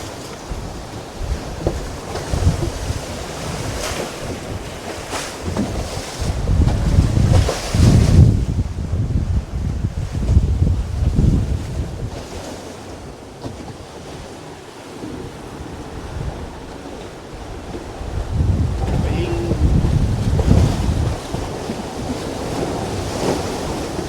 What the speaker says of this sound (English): Someone's having a little bit of fun surfing down some waves.